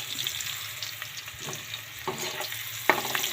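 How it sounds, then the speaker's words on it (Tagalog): Onions and garlic fry in a hot pan as the base for beef steak, a steady close sizzle with soft scraping stirs and a sharper crackle near the end, no voices. "Kailangan lutuin natin ng bawang at sibuyas."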